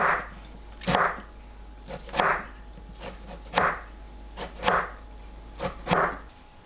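A knife cuts through tomato into 0.5 cm slices on a board, about six separate thudding chops with short juicy squishes spaced roughly a second apart, close and fairly loud in a quiet kitchen.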